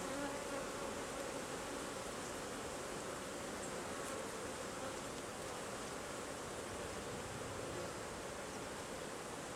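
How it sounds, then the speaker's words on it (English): Bees hum around an opened top bar hive, a dense, continuous buzzing that stays close and even throughout with no voices. "on this side there are some bees there"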